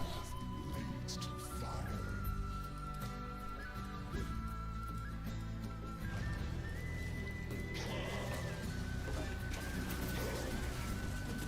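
Donkeys bray repeatedly in a video game, their loud, drawn-out calls rising over a dense, constant bed of game music and effects.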